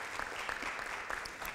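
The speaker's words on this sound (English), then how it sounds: "Let's give yourselves a round of applause." An audience at a high school community event claps together, a fairly quiet, steady burst of applause heard from a distance with no voices over it.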